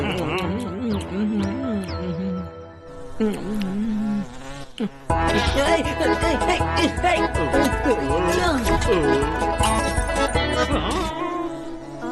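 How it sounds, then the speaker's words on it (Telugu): A housefly buzzes around a room in a Telugu cartoon episode, a thin whining drone running over playful background music and cartoon sound effects, fairly faint and continuous. "అరే ఈ ఈగ ఎక్కడి నుంచి వచ్చిందబ్బా?"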